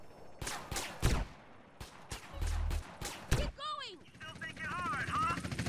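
Gunfire and a police helicopter in the video game GTA San Andreas: several sharp, loud shots crack out in the first three and a half seconds, then the steady thump and whine of rotors takes over until the end.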